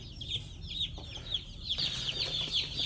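Broiler chicks chirp and cheep in quick high bursts throughout as they are placed into a heated brooder on their first day, with a low background hum and soft clucking-like calls overlapping.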